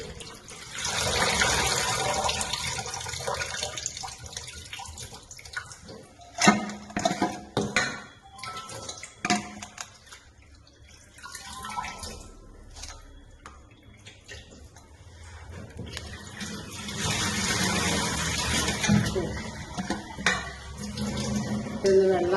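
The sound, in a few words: washing kuppa cheera greens under running water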